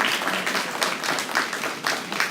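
An audience at a regional education stakeholders' conference claps warmly, a fairly loud, continuous patter of many hands with slight rhythmic swells.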